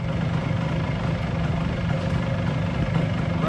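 A 1973 Kawasaki F7 175 two-stroke motorcycle engine idles steadily with a constant low rumble, no one speaking.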